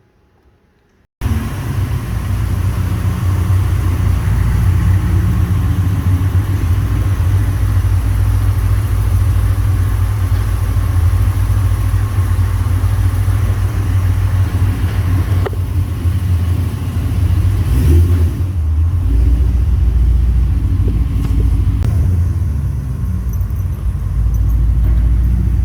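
A 2006 Pontiac GTO with a swapped LSA supercharged engine idles steadily, a deep, lumpy rumble starting after a second of silence and holding close and loud, with a few small shifts in tone.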